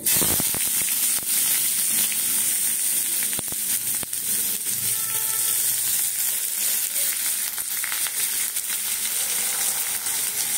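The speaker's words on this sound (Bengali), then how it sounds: "এইবারে দেব পেঁয়াজগুলো।" Onions dropped into hot oil with a pinch of nigella seeds in a kadai, frying for onion paratha, give a steady close sizzle and hiss that runs the whole time with faint scraping stirs.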